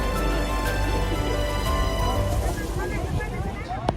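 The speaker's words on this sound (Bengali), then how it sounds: "দারুণ একটা হাওয়া দিচ্ছে।" Strong seaside wind on Havelock Island in the Andamans roars steadily across the microphone, a dense, close rushing noise that barely lets up for the whole stretch.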